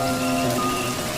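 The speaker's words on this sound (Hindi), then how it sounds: "इतनी बारिश को भी आज ही आना था।" Steady, dense rain pours down across the Serengeti, a continuous hiss of drops striking the ground with no voices.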